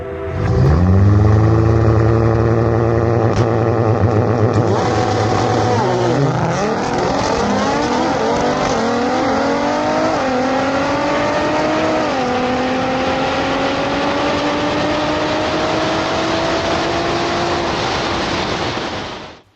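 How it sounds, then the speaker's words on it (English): A loud Nissan Z engine with upgraded turbos revs and labours unevenly on launch control, sputtering and stuttering from condensation-caused misfires as it holds high revs, then pitch climbs with roughness as the car pulls away. "What you're about to hear is my car misfiring due to the condensation"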